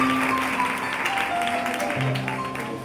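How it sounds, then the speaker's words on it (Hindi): A church congregation claps loudly during a sermon, a dense wash of applause with sustained keyboard tones ringing underneath. "भाई साहब के जोर से ताली बजाएं"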